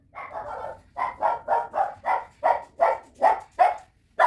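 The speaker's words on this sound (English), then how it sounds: "Stop barking." A dog barks repeatedly in a steady rhythm, about ten loud, close barks in a row with short pauses between them.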